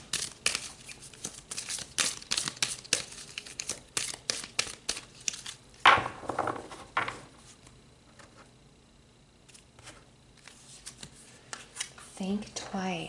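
Tarot cards being pulled and shuffled by hand, a series of close crisp riffling and flicking bursts with one louder shuffle midway, interspersed with a quiet voice.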